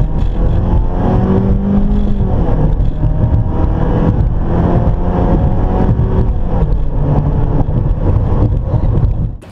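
A 2.4-liter Jeep Renegade with a 9-speed automatic accelerates hard, the engine drone rising in pitch and dropping at gear changes, loud and continuous with heavy wind and road noise inside the cabin.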